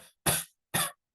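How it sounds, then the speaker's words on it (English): A person fakes two dry coughs, short sharp bursts about half a second apart, loud and close with silence around them. "someone you're talking to and they're coughing on the phone"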